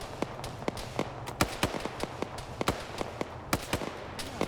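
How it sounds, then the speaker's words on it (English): Video game gunfire crackles in quick irregular sharp shots, some bursts close together, with a constant background hum. "I'm getting shot at"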